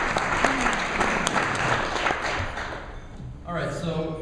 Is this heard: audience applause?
yes